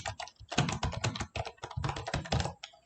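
Keys clatter on a computer keyboard while text is typed into a Word document, a quick, irregular run of close, crisp clicks with short pauses between bursts.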